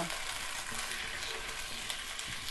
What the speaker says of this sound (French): Alors je fais mijoter mon poulet et je vais faire dorer tout ça.